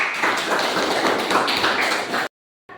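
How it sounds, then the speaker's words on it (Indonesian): Classroom applause for a student's correct answer in a biology lesson: a steady burst of many hands clapping at once, lasting about two seconds and then stopping abruptly. "Kasih aplaus untuk Ayla."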